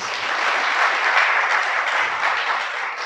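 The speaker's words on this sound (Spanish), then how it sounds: "Dale un aplauso al Creador, pues." A short burst of applause from an audience at a Shabbat sermon, dense and steady clapping that holds for about three seconds at moderate level.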